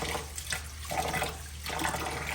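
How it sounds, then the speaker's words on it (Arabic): Tap water runs steadily into a bowl while Egyptian rice is rinsed by hand, a continuous close splashing stream with faint shifts in tone as the grains are stirred, no voices over it. "احنا بنصول الرز هيك، نفتح المي"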